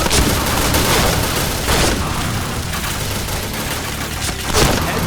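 A black shotgun fires in the online shooter Point Blank during a headshot-only match. A few loud, booming blasts come through a dense wash of constant game noise.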